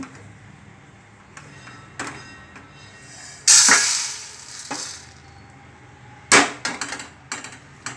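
Roasted coriander seeds are tipped from a hot pan onto a plate in a couple of loud, bright rattling bursts, between quieter scrapes and clinks close by.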